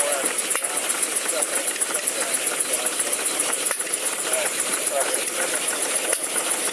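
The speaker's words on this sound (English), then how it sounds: "these are Tesla turbines here" Continuous high, whining hum of small Tesla turbines spinning at speed, steady and close, with a faint mechanical rattle running under it and occasional ticks.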